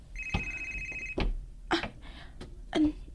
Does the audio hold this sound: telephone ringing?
yes